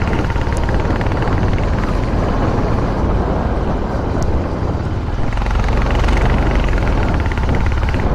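Honda Highness motorcycle engine pulling steadily uphill in third gear on a mountain road in Mukteshwar, Uttarakhand, a loud continuous drone mixed with wind rush, no talking.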